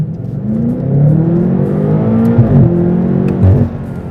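A BMW M8 Competition coupe accelerates with a deep, loud exhaust note that climbs steadily in pitch through the revs, with a brief shift dip and a short pop near the end, and nobody talking.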